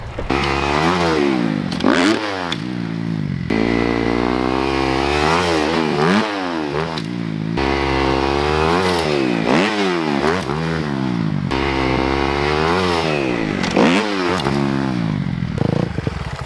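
A dirt bike engine revs repeatedly in first gear while riding at a backyard ramp, with rising and falling revs that loop in regular waves and stay close and loud throughout.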